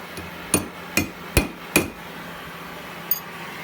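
A ball peen hammer strikes hot steel while a key chain is forged. Four sharp, evenly spaced blows ring out close by, followed by a pause and then one lighter tap.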